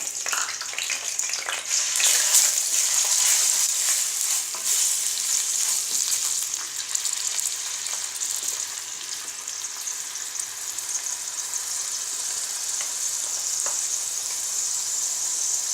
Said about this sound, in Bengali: তেল গরম হয়ে গেছে, এখন এর ভিতরে দিয়ে দিচ্ছি পেঁয়াজ বাটা